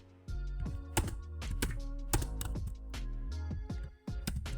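Keys clack steadily on a computer keyboard as Java code is typed, a close, dry run of taps with brief pauses and no speech over it.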